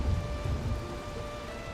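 Rain falls in a video game, a soft, steady patter with faint low rumbles like distant thunder, continuous and fairly quiet with no voices.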